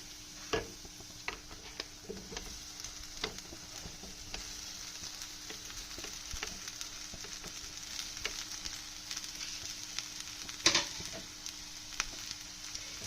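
A faint, steady sizzle of light frying in a pan holds through the whole stretch while vada pav filling with turmeric and salt cooks, broken by soft scattered ticks and one sharper clack near the end. No one speaks.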